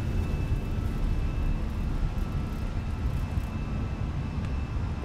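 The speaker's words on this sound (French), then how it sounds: "Oh il a mis du temps à décoller là aussi." Airbus A320 taking off in a flight simulator game, a steady, loud, low jet engine roar that holds constant throughout with no voices.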